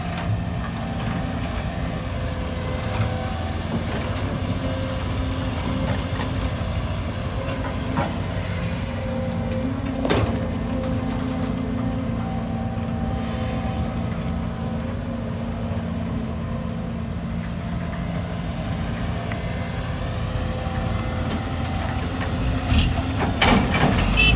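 A Caterpillar 320D2 excavator engine running on a work site, a steady, fairly soft low hum and rumble throughout with a brief knock midway.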